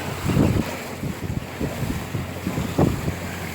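A sailboat under a 135% genoa runs along the coast toward Cape May, its hull swishing through waves in repeated low surges while wind roars steadily across the microphone.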